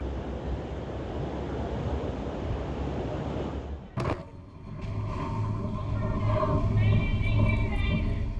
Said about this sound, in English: Big waves, strong winds, and unpredictable weather can happen at any time.